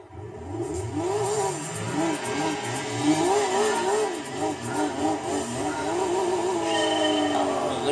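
A Group D four-wheel-drive rally car of almost 200 horsepower in Gran Turismo 2 roars loudly and continuously, engine pitch rising and falling through gear changes on Red Rock Valley Reverse.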